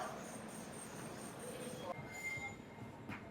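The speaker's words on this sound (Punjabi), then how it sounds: "ਬਰਗੜ ਜਾਣ ਵਾਲੀ ਰੇਲ ਗੱਡੀ ਆ ਗਈ ਹੈ ਜੀ" A train bound for Bargarh arrives at a station, rumbling steadily, wheels grinding on rails with a faint high squeal, heard from a short distance and somewhat muffled.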